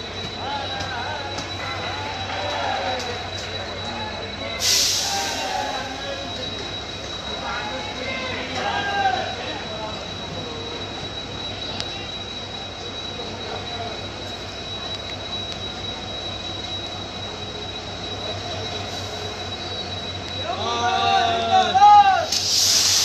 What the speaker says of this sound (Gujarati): દિવસની ત્રીજી ટ્રેન મારફતે આપ જોઈ રહ્યા છો તેમ મોકલી રહ્યા છે